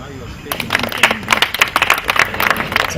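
Audience clapping after a reverend's speech at a forum on religion and the state, a few seconds of scattered, uneven claps that build into a moderate round of applause.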